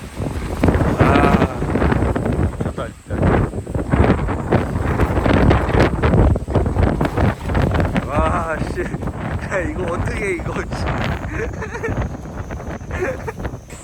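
Strong, gusty wind sweeps through a campsite and buffets the microphone with a constant roar. People talk and laugh over the wind the whole time.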